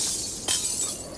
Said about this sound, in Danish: så jeg går lige over på den anden side og smadrer et vindue